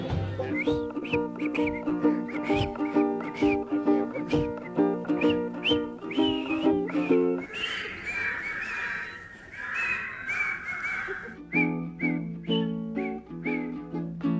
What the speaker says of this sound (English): Then we'll whistle a while together.